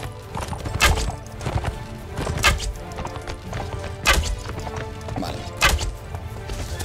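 Heavy horse hooves clip-clop in a steady rhythm while riding in a Lord of the Rings themed video game, loud and close, with thuds on each stride and no talk.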